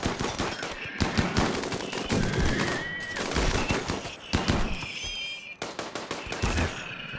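Repeated bursts of video game gunfire during a battle, rapid cracking shots in clustered volleys with short pauses, loud and close, overlapping one another across several seconds.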